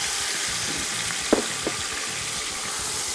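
Chicken pieces frying in a pan for white biryani give a steady, close sizzle, broken by a couple of brief clicks from a utensil partway through, with no voices.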